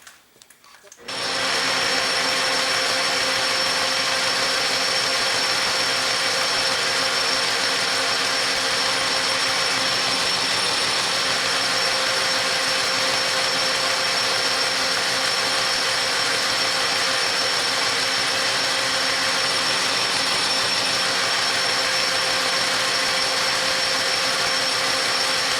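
A metal lathe runs steadily and loudly, cutting a chamfer on a backhoe pin in a machine shop, with a continuous high-pitched whine and a broad grinding hiss that hold unbroken for the whole stretch.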